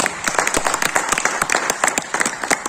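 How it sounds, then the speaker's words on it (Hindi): Clapping from a seminar audience at a Vestige marketing plan presentation: a few seconds of distinct, fairly close individual claps in an uneven rhythm. "ताली तो बनती है यहां पर"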